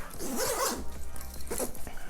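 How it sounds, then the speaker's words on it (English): A zipper runs closed on a travel backpack in two quick close pulls, a long rasping stroke followed by a shorter one, with no talk over it. "And you can zip this up"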